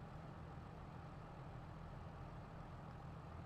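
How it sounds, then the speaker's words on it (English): A tractor engine idles at rest with a steady, faint low rumble and hum that stays constant, with no talk over it. "Might as well shut the tractor off and save some fuel."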